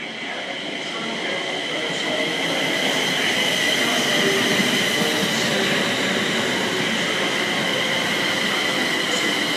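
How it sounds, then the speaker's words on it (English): A Midland service train pulls into platform 1 at Rugby station, with a steady loud rumble of wheels and carriages, a faint metallic squeal and a continuous hiss throughout. "The train arriving at platform 1 is 16:17 and the Midland service to Birmingham New Street for local destinations."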